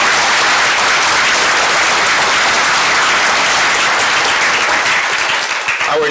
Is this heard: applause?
yes